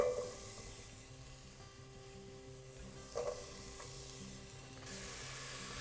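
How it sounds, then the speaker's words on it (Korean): Onions sauté in plenty of olive oil for a vegan vegetable soup, giving a quiet, steady sizzle with faint stirring scrapes and a brief clatter partway through. "올리브유를 충분히 넣고 양파를 잘 볶아주셔야 돼요."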